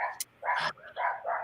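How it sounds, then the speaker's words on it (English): A dog barks in the background during a podcast recording, several loud, close yips and barks in quick succession with brief gaps between them. "with the barking dog in the background"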